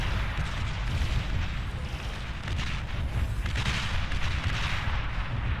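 Artillery bombardment in the strategy game Beyond All Reason: a dense, continuous barrage of booming shots and impacts rumbles without pause, loud and heavy across the whole stretch, with no speech.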